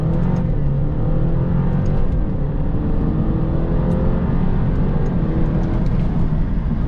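A 280-horsepower car with 308 pound-feet of torque launches hard, a steady loud engine roar heard from inside the cabin without break.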